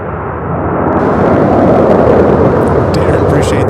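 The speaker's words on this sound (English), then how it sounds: "this is A319 out of Columbus" American Airlines Airbus A319 jet at Charlotte-Douglas airport, a loud, steady broadband engine roar that swells slightly and holds close throughout.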